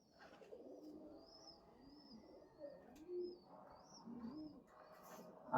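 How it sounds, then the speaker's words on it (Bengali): A pair of pigeons coo softly nearby in repeated low, rounded phrases, with a few faint higher chirps overhead and no talking. "এ হচ্ছে এক জোড়া কবুতর।"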